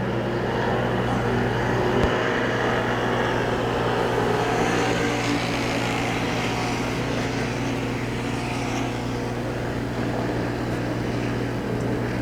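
Pure Stock race cars drone around Hagerstown Speedway during a heat race, a steady blended engine roar from the pack of cars that holds at the same level throughout, with no clear talk over it.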